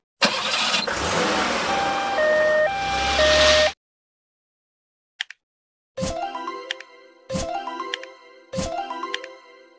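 A cartoon ambulance siren wails in a two-tone pattern for several seconds, loud and close, then after a pause three short repeated musical chime bursts follow with no talking.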